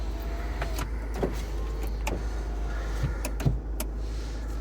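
Electric front windows on a 2002 Land Rover Freelander running, a steady low motor hum inside the car with faint clicks and thumps along the way and one sharper knock near the end.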